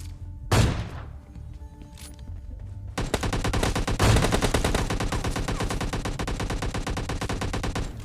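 Gunfire in PUBG Lite: a sharp single shot rings out early, then after a pause a sustained burst of rapid automatic fire runs continuously to the end, loud and close.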